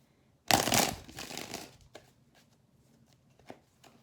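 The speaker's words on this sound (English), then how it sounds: "Nice shuffle." A quick riffle of tarot cards being shuffled, loud and close, followed by a few light taps and card handling sounds.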